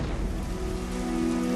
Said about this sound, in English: It had been raining for days.